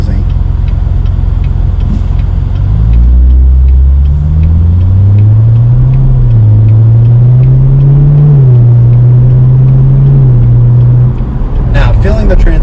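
A C7 Corvette with a naturally aspirated engine accelerates hard from inside the car, its note climbing through several gear pulls with rising and falling pitch, loud and close, ending in a brief burst of other noise.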